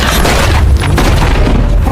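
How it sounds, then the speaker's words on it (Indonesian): Loud, booming gunfire from an action scene in the disaster film Geostorm, heavy low-end blasts and rumble filling the whole moment without any speech. "Setelah lolos dari tembakan Dekom barusan"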